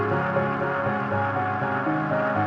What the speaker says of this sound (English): That echo's got way more feedback.